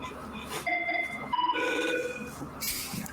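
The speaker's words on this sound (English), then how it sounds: "Hello there, Sunrise ringtone from Cisco." A Cisco phone plays its Sunrise ringtone, a sequence of bright rising electronic tones that rings out clearly for a few seconds at moderate loudness, with a little background noise and no speech.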